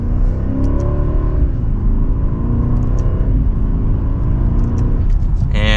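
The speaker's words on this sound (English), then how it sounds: "And just like that, we're up to speed with the incredibly smooth shifts." 2024 BMW 760i in sport mode, pulling from second gear with a loud, deep, smooth engine roar, and the pitch sweeping up and dropping through quick gear shifts, heard from inside the cabin.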